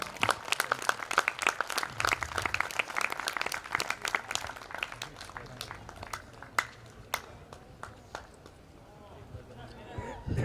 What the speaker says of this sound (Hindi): तो एक बार जोरदार तालियों के साथ सोम भाई का स्वागत